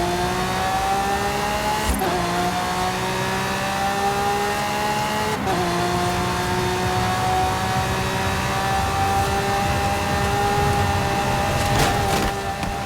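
Lamborghini Centenario engine in a racing video game holds a steady high-revving drone, with sharp gear-change dips near two and five seconds before climbing again, loud and continuous with no talking.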